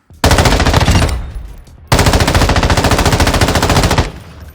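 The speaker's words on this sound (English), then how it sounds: "it's a really good gun because the fire rate is so fast" Two loud, rapid-fire automatic bursts from an M13B rifle in Call of Duty DMZ, a short burst followed by a longer sustained one, each shot distinct in a fast, even rhythm with echoing tails.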